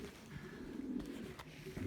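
Homing pigeons coo softly in a continuous low murmur, several birds overlapping at close range with a steady, gentle throaty bubbling and no talk.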